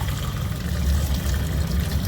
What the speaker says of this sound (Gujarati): આપણે પહેલાં પાણી આપી દઈએ ચકલાઓને